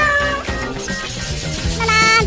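A cat gives a short, clear meow, loud and close, over a brief busy background.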